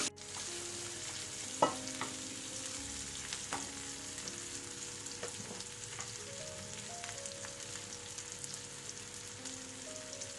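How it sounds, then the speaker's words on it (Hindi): Roughly cut onions stir-fried on a high flame for paneer tikka masala, a steady loud sizzle running the whole time with occasional scrape and clack of a spatula stirring the pan. "अनियंस डालने के बाद फ्लेम को हाई करेंगे और इस तरह से चलाते हुए हम अनियंस को भूनेंगे"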